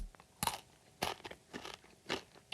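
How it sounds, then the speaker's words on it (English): Crisp crunching bites into the dried-out, crunchy beef crust on cooked beef ribs, four distinct close-up crunches spaced about half a second apart, quiet with no talk. "It's real beef that just dried out and got crispy."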